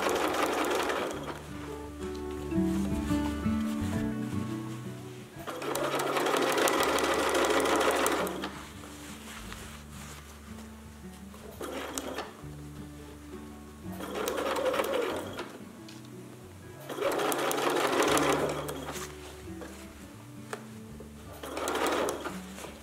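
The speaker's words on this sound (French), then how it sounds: "Et donc je couds jusqu'à rejoindre le point de commencement d'assemblage de la manche et de la doublure." A sewing machine stitches a parka sleeve to its lining in several bursts of rapid whirring, each a few seconds long, with quieter pauses between them as the fabric is repositioned.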